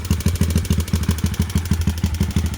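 A motorcycle engine with a loose valve, treated with Omega 909 oil additive, idles alone at close range with a steady, pulsing low chug and a light mechanical clatter.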